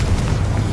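A Confringo fire spell detonates in Hogwarts Legacy, a short, loud, rumbling burst with a dense low roar lasting under a second.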